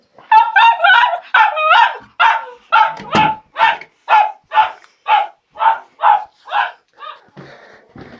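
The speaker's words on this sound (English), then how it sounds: "He always barks a lot." A pet dog frightened by bonfire night fireworks barks repeatedly indoors, a steady series of about a dozen loud, close, evenly spaced barks with no talking.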